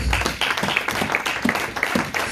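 A church congregation applauds, a dense, continuous patter of many hands clapping together at a fairly even pace.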